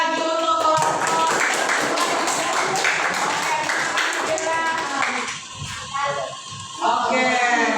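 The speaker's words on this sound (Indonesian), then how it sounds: "Tepuk tangan lagi untuk kelompok." Students in a classroom clap for a group, with uneven close handclaps and some voices, thinning midway before picking up again at the end.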